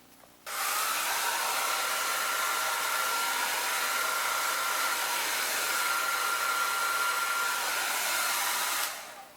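A hair dryer set to cool switches on abruptly and blows a loud, steady whooshing roar for about eight seconds before cutting off, close and alone, with no talking.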